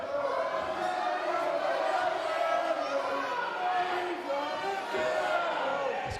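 A wrestling crowd at a pro wrestling event buzzes and cheers before the main event, a steady mix of shouts and chatter at moderate loudness with no clear break.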